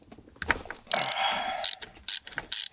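A ratchet with a 13mm socket removes the bolts of a Hurst shifter on a 1990 Mustang LX, producing short bursts of close, sharp pawl clicking separated by brief pauses.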